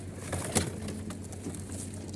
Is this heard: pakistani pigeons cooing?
yes